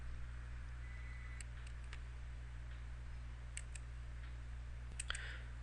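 Faint, crisp computer mouse clicks sound in a quiet room, a few isolated single and double clicks spread across a steady low hum, with no voices.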